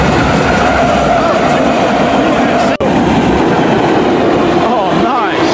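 Near Gomez, a train with SD70MAC distributed-power units, numbered 9494, rolls past the listener at close range with a loud, steady rumble and rhythmic clickety-clack of wheels over rail joints. Amtrak 157 also features.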